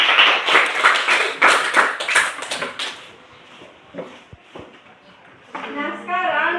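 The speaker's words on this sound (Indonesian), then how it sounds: "tepuk tangan untuk kelompok" Classroom clapping for a student group after a presentation, a burst of claps from the students for about three seconds, then quieter shuffling before a teacher's voice resumes.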